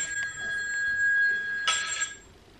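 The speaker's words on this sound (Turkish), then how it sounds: "Telefonum çalınabilir." A mobile phone rings with a steady electronic tone that holds for about two seconds, then ends as the call is answered.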